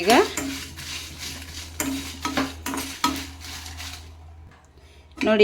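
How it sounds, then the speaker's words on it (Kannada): Byadgi chillies fry in a pan as a spoon stirs them, with repeated metallic scrapes and clinks against the pan over a soft sizzle, fairly close and irregular in rhythm. "ಇದಕ್ಕೆ ಬ್ಯಾಡಗಿ ಮೆಣಸು ಕೂಡ ಹಾಕಿ ಫ್ರೈ ಮಾಡ್ಕೋತೇನೆ"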